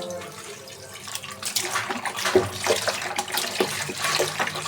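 Water splashes and runs steadily while beef tripe is rinsed by hand in a home kitchen, with the sloshing rising and falling close by for several seconds and no talk.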